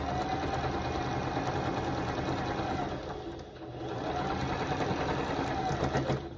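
A sewing machine runs a steady, continuous stitch along a quilt seam of half-square triangles, its motor whirring close and even with a brief slowdown midway, with no talking.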